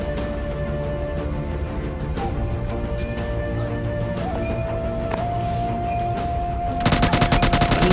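Rapid automatic gunfire bursts out near the end of a PUBG Mobile Lite match, sharp and loud over background game music and ambient tones that fill the earlier seconds.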